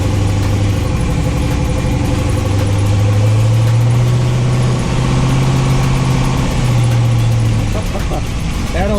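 A twin-turbo Winnebago motorhome engine revs hard under boost, a loud, steady drone whose low pitch climbs and holds for several seconds before easing off near the end.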